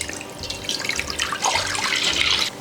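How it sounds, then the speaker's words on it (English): Raw, unpasteurized whole milk, about half a gallon, is poured into an old crock pot: a steady, close liquid splash and gurgle that lasts throughout and swells slightly toward the end, with no talking. "So I'm going to pour in half of the gallon."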